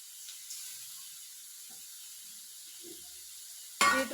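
Curry leaves hit hot oil for a beetroot thoran on a gas stove, a sudden loud hiss and sizzle bursting up near the end after a quiet stretch with faint background hum.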